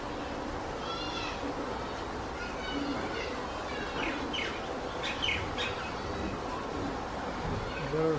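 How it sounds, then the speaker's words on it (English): Small birds gathered around an aloe vera plant in a backyard garden chirp and tweet in short bright bursts against a steady outdoor hum, moderately close and scattered, with faint cat-like calls mixed in. "Beautiful little bird."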